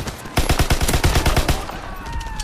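Rapid automatic gunfire in the Call of Duty: WWII multiplayer beta, a loud close burst of about a dozen shots in quick rhythm, then a fainter tail of distant game sounds.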